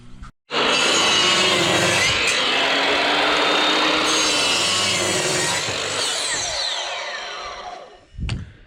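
A power saw cuts through wooden formwork stakes, likely alder, with a loud, close, rasping whine that runs continuously for several seconds before tapering off, followed by a brief final burst.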